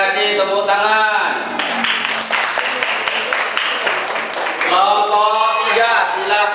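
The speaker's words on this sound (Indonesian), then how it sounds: "Tepuk tangan." A classroom bursts into a few seconds of dense group applause after a group-work presentation, framed by a teacher's voice talking just before and after the clapping.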